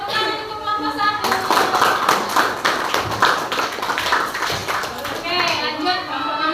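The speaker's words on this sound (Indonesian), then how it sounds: "tepuk tangan untuk kelompok 1" Clapping from a classroom group applauding a team after their presentation during a coding training session, steady close claps running through most of the clip with children's voices talking over it.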